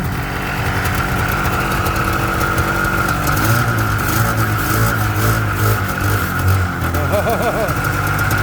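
A Yamaha VMAX motorcycle pulled from a barn and just revived on fresh gas, its engine running loud and close with a steady droning idle that rises briefly as the throttle is blipped.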